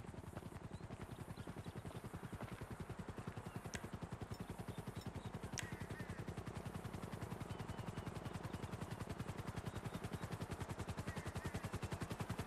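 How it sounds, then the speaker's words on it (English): Helicopter rotor blades chop in a steady rapid rhythm throughout in the GTA V online game, loud and close, with a couple of brief metallic clicks over the continuous whirr and no talking. "A helicopter is on its way."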